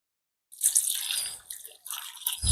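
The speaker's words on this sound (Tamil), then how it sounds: "அதால நல்ல வடிவா 2 தரம் கழுவி எடுக்கணும்." Cassava pieces are washed by hand in a bowl of water, giving close, continuous splashing and sloshing with small drips and trickles that swell and fade in uneven bursts for about two seconds.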